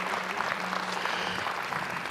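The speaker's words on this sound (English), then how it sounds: "If you would, give all of them a great big round of applause." Crowd applause at a county junior livestock barrow show, a dense, even roar of clapping from a large audience filling the whole stretch without a break.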